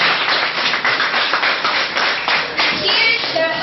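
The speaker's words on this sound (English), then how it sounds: "let's give them a round of applause." An audience at a school debate applauds the board of judges with dense, steady clapping that holds throughout at full volume, with a few faint voices near the end.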